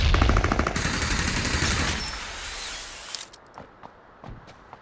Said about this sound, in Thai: ข้างหลังยิงมาแล้ว